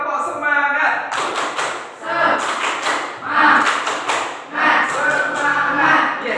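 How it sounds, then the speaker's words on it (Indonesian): A school class performs tepuk semangat, bursts of rhythmic group clapping in quick patterns separated by short pauses, loud and close, with children's voices chanting along. "mari kita bertepuk semangat bersama-sama"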